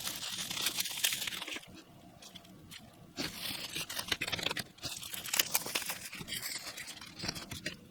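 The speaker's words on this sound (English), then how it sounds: "So let me just get all these eyeshadows out of the packaging and onto my table." Single eyeshadows from Lethal Cosmetics come out of their paper sleeve packaging with close, crisp crinkling, rustling and tearing that runs in bursts across the span, with no talking.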